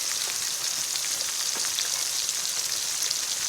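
Ginger paste frying in a pan with chopped onion during a rural Bengali yogurt-egg curry preparation, a steady close sizzle and crackle of hot oil running evenly throughout with no voices.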